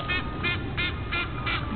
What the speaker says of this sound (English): Hear that goose laughing?